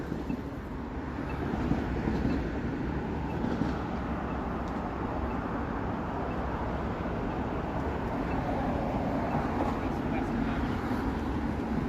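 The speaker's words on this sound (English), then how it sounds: "You can hear a subway over there." A Toronto subway train rumbles past on a Wednesday evening in April, a steady low roar with wind and street noise that swells slightly early and holds for the whole stretch.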